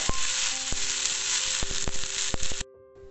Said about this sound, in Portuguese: Aqui eu coloquei um fio de azeite, refoguei um pouquinho a cebola, agora eu vou colocar o alho.